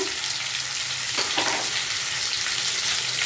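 Bitter gourd fries in a pan with a loud, close, continuous sizzle, broken by a brief stirring scrape partway through; no one speaks.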